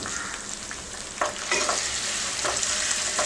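Garlic and ginger frying with red chili sauce, tomato ketchup and soy sauce for a desi Chinese dish, a low sizzle broken by several sharp spatula stirs and scrapes, no voices.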